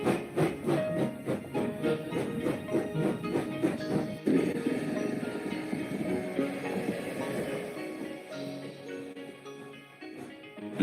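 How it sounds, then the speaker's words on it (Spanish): Steam locomotive at work, with rhythmic chuffing and hissing steam over rumbling rail noise, fairly distant and fading slightly toward the end. "La máquina que movía esta locomotora empleaba el vapor que se producía en la caldera."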